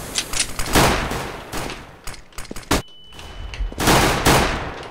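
Decoy grenades in CS:GO popping off imitation gunfire, sharp bursts of automatic-sounding shots in uneven clusters, loud and close, with brief gaps between volleys.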